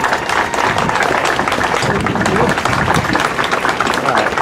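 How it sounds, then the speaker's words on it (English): Applause from a standing crowd at a Vietnam War Veterans Day ceremony, a dense steady wash of many hands clapping with murmuring voices mixed in, loud and continuous throughout. "So let's give them a round of applause."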